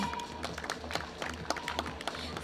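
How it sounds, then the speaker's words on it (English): A crowd at a children's day cultural celebration gives faint, scattered applause for the kids, quick irregular claps at a distance with a soft crowd murmur under them. "can we hear some claps for the kids?"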